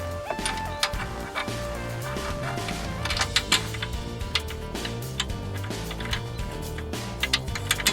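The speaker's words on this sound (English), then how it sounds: "Now that the two shock absorber lower bolts are now connected and torqued down" Lower bolts on a Lincoln MKZ rear shock absorber are torqued down with a rapid ratchet clicking. The ticking runs steadily and fairly faintly over a constant mechanical hum.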